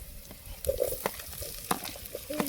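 Washed vegetables, beans, potato and carrot, go into a pan of browned onions for a vegetable coconut pulao. Stirring scrapes and sizzling frying come up close with a few sharp clatters, and no one speaks.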